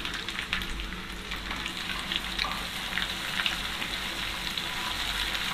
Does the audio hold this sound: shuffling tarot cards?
no